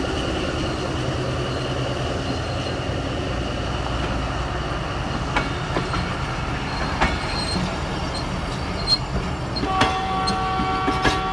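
A fast passenger train pulls away near Jhelum, Pakistan, its steady rumble and rail clatter filling the air, with sharp squeals and clicks from the wheels and a brief high whistle toward the end.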